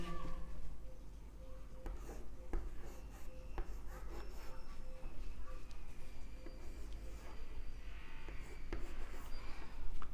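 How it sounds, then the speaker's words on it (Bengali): A pen or marker writing a number by hand during a maths lesson on divisibility by 3, heard as steady close scratching strokes with small taps, fairly faint under low room hum, no talking. "আরেকটা সংখ্যা আমি লিখি, দেখি এটা যায় কিনা"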